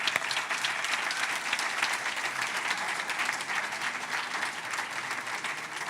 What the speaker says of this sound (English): Let's give them another round of applause just for the heck of it.